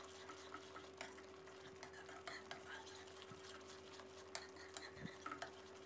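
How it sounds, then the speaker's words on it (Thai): Thick Buriram-style meatball dipping sauce with chili paste and ground pepper being stirred in a pot over gas, quiet scraping and occasional utensil clinks against metal, faint and intermittent. "แล้วก็คนให้เข้ากันเล็กน้อยนะครับ"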